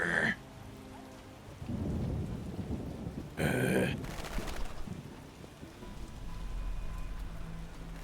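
Rain falls steadily in The Witcher while thunder cracks and rumbles in a couple of heavy bursts, with game voices speaking over the storm.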